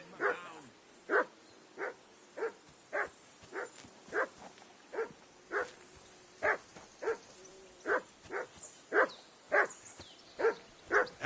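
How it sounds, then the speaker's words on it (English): A dog in the video game Kingdom Come 2 barks steadily and repetitively, about eighteen evenly spaced woofs at a moderate distance, alone without speech. "That barking was a pain in the ass."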